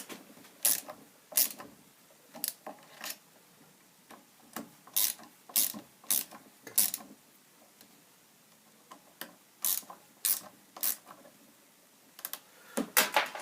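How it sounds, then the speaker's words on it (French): Screws being tightened on the aluminium cover of a Lucas diesel injection pump, a series of sharp metallic ratchet clicks in irregular short bursts, close and fairly clear against a quiet background. "Donc voilà, on va serrer un petit peu les vis."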